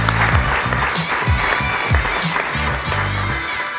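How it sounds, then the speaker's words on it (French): An audience applauding at a school magazine event, with dense close clapping that holds steady and then thins out at the very end. "Applaudissements, s'il vous plaît."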